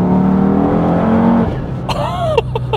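An Audi TT RS with all-wheel drive powers through turns, its five-cylinder engine droning loudly and steadily before the note drops off, followed by short high squeals and chirps from the tires.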